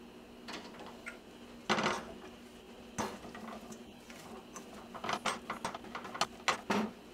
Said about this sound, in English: toss them into the frying pan on top of the oil